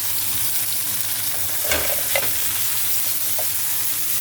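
Butter sizzles in a pan alongside frying salmon, a steady close hiss with a couple of brief louder crackles and stirring sounds partway through, no speech.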